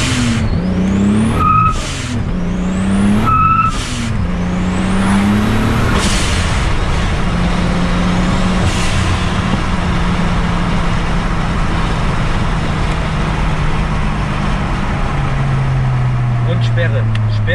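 VW Golf 2 with a turbocharged VR6 and GT30 turbo pulling hard under load, revs climbing and dropping through quick gear shifts with turbo whooshes, then a sustained loud cabin drone; people talk over the engine.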